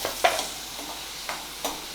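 Tomatoes added to onions frying in a pan for masala oats, with a constant low sizzle and a few sharp scraping stirs of a spoon against the pan, close by and with no talk.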